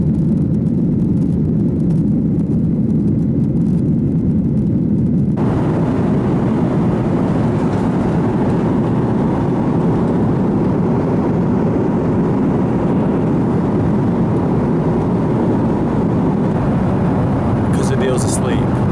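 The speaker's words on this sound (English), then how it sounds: "Okay, so we're on the plane, about to set off to Atlanta." Inside an airplane cabin about to depart for Atlanta, a loud, steady engine and ventilation roar fills the whole stretch, with people talking over it.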